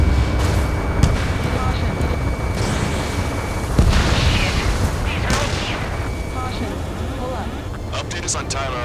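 In the jet combat game Ace Combat 7, a missile launch and explosions roar over dense engine noise and chatter, with sharp blasts near one and four seconds, as radio voices talk throughout.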